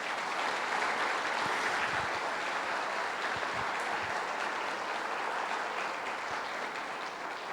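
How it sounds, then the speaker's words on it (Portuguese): A church congregation claps together in steady, sustained applause that fills the room, dense and even from start to finish, with no voices standing out. "Vamos aplaudir Jesus pela vida deles?"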